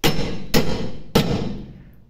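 Three sharp hammer strikes on metal bodywork of a Mercedes T1 307D van, each ringing out and fading, spaced unevenly about half a second apart, close and loud with no talk.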